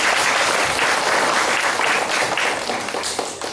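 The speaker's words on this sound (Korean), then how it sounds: "박수 좀 주세요." An audience in a lecture room applauds loudly and steadily for several seconds before the clapping begins to thin out.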